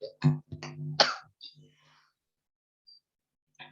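A couple of sharp, close coughs mixed with throat sounds and brief voiced bursts, then quiet with a faint click near the end.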